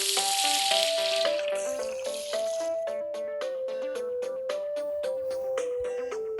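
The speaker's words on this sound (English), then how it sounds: "Move the hose to fill up the dog's water dish" Water sprays from a hose in a kids' science video game, a hissing spray under a bright, stepping electronic melody that plays throughout.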